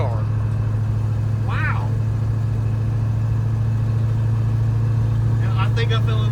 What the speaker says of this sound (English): It's like I've never been able to rev it that hard because of the drive shaft.